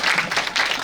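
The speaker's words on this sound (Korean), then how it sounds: "박수로 맞춰주십시오." Brief burst of audience applause as a student is welcomed to the stage at a school presentation event, a steady, fairly loud wash of clapping.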